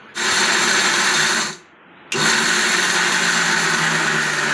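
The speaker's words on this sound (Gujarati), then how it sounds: "આપણે છે ને માંડવીને બધાને પીસી લીધી અને જો સરસ મજાનો ભૂકો થઈ ગયો" An electric mixer grinder grinds peanuts into powder with a loud, steady whirring roar that cuts out briefly about a third of the way through, then restarts and keeps running at full power.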